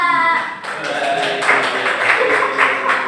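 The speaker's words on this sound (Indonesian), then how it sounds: "tepuk tangan dulu buat kelompok 2" Classmates clap for a student group during a university history class presentation, a steady spatter of moderate applause lasting a few seconds, with a voice briefly heard at the start.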